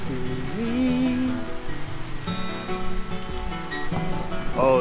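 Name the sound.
rain falling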